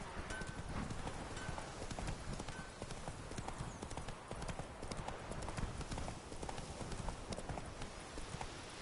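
The horse's hooves galloping in The Witcher 3, a fast continuous clip-clop rhythm held steady and close with no talk over it.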